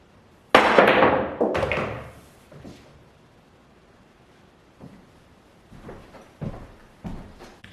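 Pool balls on a Mosconi Cup table clack in a jump shot over the 7 ball: a loud sharp strike, then a second knock and fading rolls, followed later by a few softer thuds.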